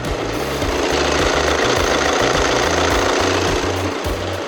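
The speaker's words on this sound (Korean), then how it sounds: "먼저 엔진 소음 체크부터 한번 해보도록" A Volkswagen Tiguan 2.0 TDI diesel engine idles with a rhythmic low knocking clatter, steady and close, with no talking.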